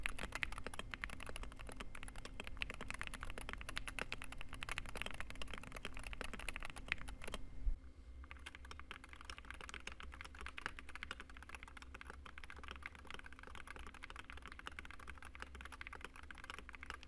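Steady, rapid typing on a Wooting 60HE+ gaming keyboard, dense keystroke clicks running continuously with a brief dip in level midway, close and alone with no talk.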